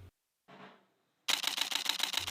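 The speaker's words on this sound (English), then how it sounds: "you can hear the shutter slow after 4 seconds of 7 frames" Nikon D850 camera shutter firing in a rapid continuous burst, a dense train of sharp mechanical clicks that runs steadily after a couple of brief isolated sounds, close and fairly loud.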